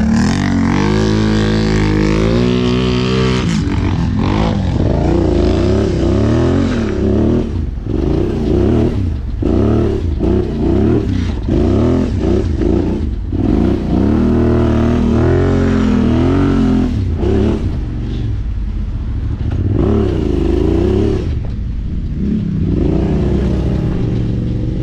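Quad bike engine revving hard throughout, loud and close with repeated throttle surges and rising pitch while riding up a hill.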